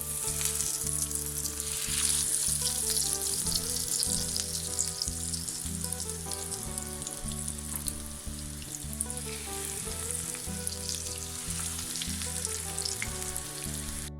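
Breaded goat's beard (salsify) pieces sizzle and crackle steadily in hot oil, a continuous frying hiss with a faint rhythmic hum underneath.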